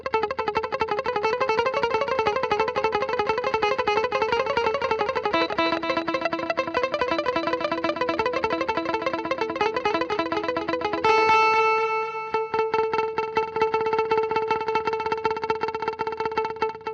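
An electric guitar plays a steady line through a TC Electronic The Prophet digital delay, each repeat identical to the original note, giving a dense, continuous repeating texture with no voices.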